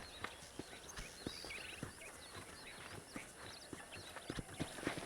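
Horse hooves clip-clop at a steady walking rhythm in the video game Red Dead Redemption, with birdsong and an outdoor ranch ambience behind them.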